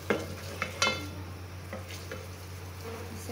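Meat fries in a pan for nihari, giving a faint, steady sizzle with a few sharp stirring clinks near the start.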